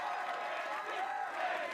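An American Ninja Warrior crowd cheers in a steady, moderately loud roar of voices, with a commentator's voice carried over the top.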